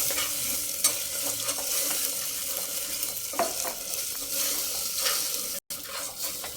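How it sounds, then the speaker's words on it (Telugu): Spice frying in oil in a pan while being stirred, with a continuous close sizzle and occasional scraping stirs of the spoon. "ఇది కూడా పచ్చివాసన పోవాలి, కొంచెంసేపు వేపాలి దీన్ని."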